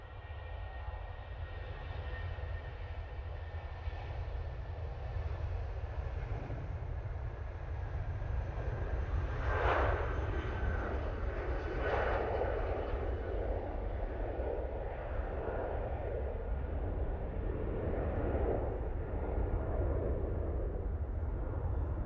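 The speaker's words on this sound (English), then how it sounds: "British Airways now on the roll, off to London Heathrow." A British Airways jet rolls down the runway for takeoff at Manchester Airport, a steady, distant engine roar that builds slightly in intensity and holds for over twenty seconds.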